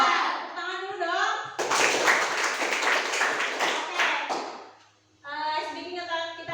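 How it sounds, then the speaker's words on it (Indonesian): Group clapping from a class session, a burst of hand claps between stretches of children's voices, close and fairly loud. "Tepuk tangan dulu dong."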